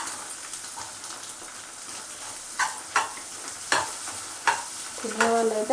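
Fried eggs and broad beans in a pan being stirred with spices, soft sizzling under several distinct scraping strokes of a spoon at roughly one-second intervals.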